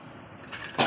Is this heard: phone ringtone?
no